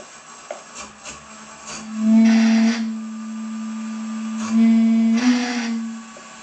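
A wood lathe turning a wooden urn spins up twice, each time a rising motor hum with a rough sanding hiss layered on top for about a second before easing off, close by, with no talking.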